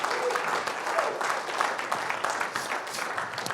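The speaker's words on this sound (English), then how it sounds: "Let's give Bert another round of applause real quick." A round of applause from the audience at a live cookware demonstration, steady dense clapping sustained throughout at moderate loudness.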